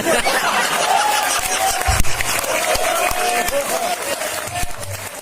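Audience applause mixed with crowd laughter fills a Hindi satirical poetry recital (kavi sammelan), a steady, dense wash of clapping with a voice rising briefly above it.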